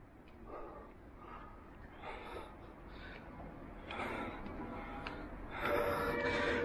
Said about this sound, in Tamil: தொடர்ச்சியாக நிற்காமல் ஏறணுன்னா மூச்சு வாங்குது